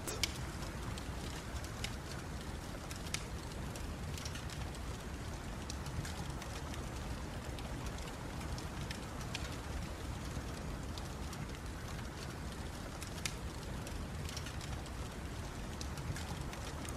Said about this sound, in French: Vous entendez le bois qui crépite.